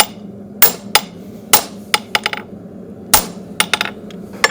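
A farrier hammers a horseshoe on an anvil, with sharp metallic strikes in irregular pairs and clusters and brief pauses between blows, fairly close and loud with no talk.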